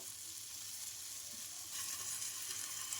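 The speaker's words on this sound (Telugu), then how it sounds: "ఇంకా ఈ పోపులు అయితే వేసుకుంటున్నాను ఈ తిరువాతలో ఇలా స్మాష్ చేసుకొని వేసుకోవాలి" Mashed potato and tempering spices fry quietly in a pan, giving a soft, continuous sizzle with a slight rise in intensity partway through.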